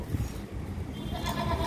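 A black mother goat, offered for sale, lets out short bleats close by over a steady low outdoor rumble.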